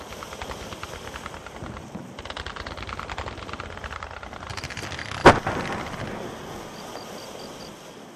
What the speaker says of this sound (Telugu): రకరకాల టపాసులు పేల్చి తమ ఆనందాన్ని వ్యక్తం చేస్తారు.